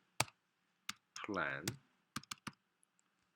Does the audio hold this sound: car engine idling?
no